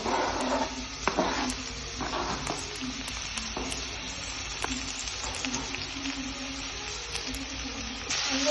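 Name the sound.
sautéing onion, tomato and green chili for Maggi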